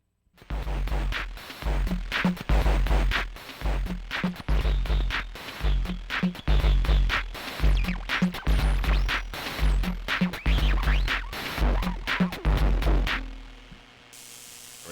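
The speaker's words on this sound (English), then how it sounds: "getting that kind of radio tuning, comb filter, whatever it is, noises that this pedal do so well" Guitar effects pedal churning out radio-tuning comb-filter noise: loud, dense static bursts and sweeping whooshes pulsing irregularly for about thirteen seconds before cutting to a faint hum.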